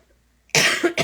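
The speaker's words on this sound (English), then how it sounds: "I still have my pesky cough." A single close, sharp cough bursts out after a moment of near silence, followed by a short second cough.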